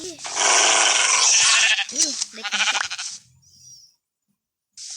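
Bleating sheep in the video game Minecraft, a couple of close, wavering calls mixed with excited talking and game noises, then the sound trails off into near silence.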